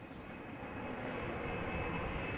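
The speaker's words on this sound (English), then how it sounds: "1855, Embraer 190 outbound to Düsseldorf." A KLM Embraer 190 jet departing Amsterdam Schiphol for Düsseldorf makes a faint, steady engine drone with a thin high whine, heard alone and building slightly.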